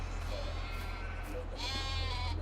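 Sheep on a Farming Simulator 22 farm bleat in a few short, wavering calls over a steady low hum of game ambience, fairly quiet and with no talking.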